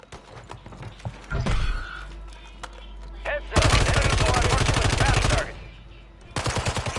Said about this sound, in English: They shoot, they sniping from over there.